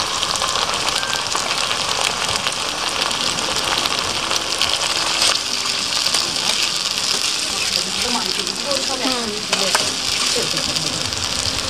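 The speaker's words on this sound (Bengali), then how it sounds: "এবার মশলাটা দিয়ে ভালো করে কষে মাংসটা দিয়ে দেবো" Spice paste for duck meat curry frying in a pan, a dense continuous sizzle with crackling bursts and some stirring scrapes, loud and close throughout.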